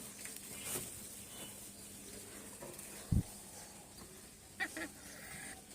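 Domestic fowl at feeding time give a few brief, faint honking calls against a quiet background, with a sharp knock near the middle.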